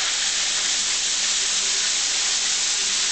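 Soft shell crab fries in hot oil with a loud, steady, dense sizzle and hiss that holds unbroken throughout, close and without talk.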